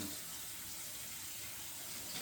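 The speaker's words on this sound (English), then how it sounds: "I'm getting the water ready for dishes." A kitchen tap runs steadily into a sink, filling it with water for washing dishes. The gushing hiss holds constant and moderately loud throughout, with no voices.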